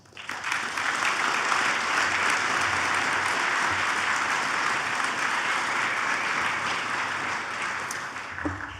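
An audience at a Good Citizen Day awards banquet applauds the year's award recipients, a steady, dense round of clapping that swells quickly and holds evenly for several seconds before tapering slightly near the end.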